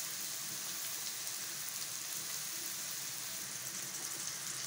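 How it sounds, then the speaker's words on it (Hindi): Tinda (round gourd) frying in desi ghee in a pan, a steady dense crackling sizzle that holds at an even level throughout with no voices. "अब ये टिंडे की सब्ज़ी फ्राई हो चुकी है"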